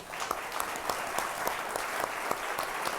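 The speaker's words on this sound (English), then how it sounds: "I hate to cut an applause" Audience applause fills an awards ceremony hall, steady dense clapping with a few sharper claps standing out, sustained throughout at moderate distance.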